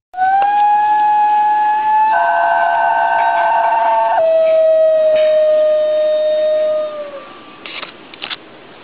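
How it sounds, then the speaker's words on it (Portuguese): A New Guinea singing dog gives a long, tonal, siren-like howl, sliding and wavering in pitch with a rich harmonic layer mid-way, then tapering off into a few short yips. "Ele faz uma vocalização que lembra um uivo e parece que está cantando."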